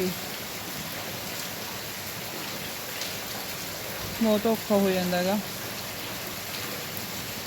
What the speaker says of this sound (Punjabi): ਲਗਾਤਾਰ ਮੀਂਹ ਪਈ ਜਾਂਦਾ